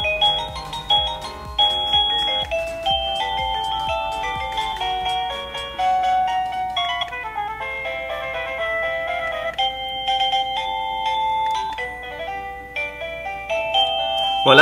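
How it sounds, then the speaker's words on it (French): A wireless doorbell plays a series of its preset bright electronic melodies one after another, clear and steady, with no voices over it. "Il y a 55 sonnettes préprogrammées."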